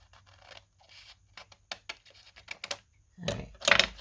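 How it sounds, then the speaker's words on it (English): Scissors cutting vintage book pages, a series of close, crisp snips and paper rustles in irregular rhythm, ending in a louder crunchy cut. "We're just going to have to do this with my scissors."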